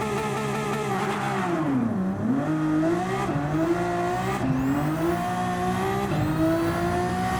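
The Genesis X Gran Racer VGT race car in Gran Turismo 7 revs and accelerates, its engine note climbing and dipping through gear shifts, loud and continuous, with no talking.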